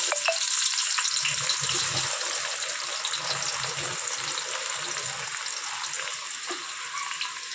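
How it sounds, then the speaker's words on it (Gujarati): Onions frying in hot oil for halim khichda, a steady bright sizzle running throughout at moderate level, with faint low bumps of stirring or handling underneath. "આપણું તેલ થઈ ગયું છે, તો એમાં ડુંગળી નાખી દઈશું."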